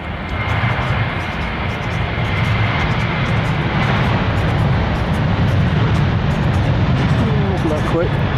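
An airliner at London Stansted Airport roars at full takeoff power in a crosswind, a steady, loud, broadband engine rumble that stays strong throughout, heard from the field nearby with light wind noise.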